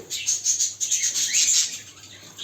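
A bird held in a person's hands calls repeatedly, giving a run of sharp, high-pitched chirps and squawks close by, with no talking.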